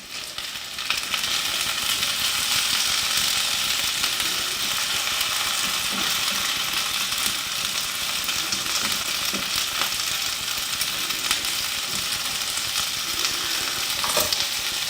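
Carrots sizzle in a frying pan, a steady, dense crackle and hiss running without a break for the whole stretch, with occasional faint clinks and stirring sounds.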